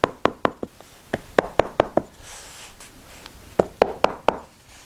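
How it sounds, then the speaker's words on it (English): A mallet drives upholstery fasteners into the holes of a sofa arm panel. Sharp wooden knocks come in two quick bursts with a short pause between them, close and crisp. "And then we just want to get a mallet, knock them all the way in."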